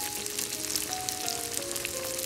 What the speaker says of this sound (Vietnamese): thì trong thời gian này là mình sẽ chiên đậu hũ nha các bạn.